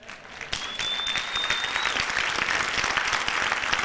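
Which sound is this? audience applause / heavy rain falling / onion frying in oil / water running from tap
audience applause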